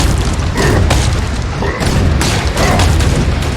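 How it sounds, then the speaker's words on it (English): Rocket launcher fire in the shooter game Hellbound, a run of loud, heavy booming blasts and explosions with short gaps, dense and continuous. "the rocket launcher."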